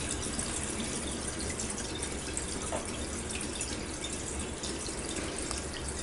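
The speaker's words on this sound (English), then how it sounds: "Then we wait until it drains completely." Water drains steadily from a WonderWash manual washing machine, a continuous broadband rushing and trickling sound, fairly loud and close, with no voices.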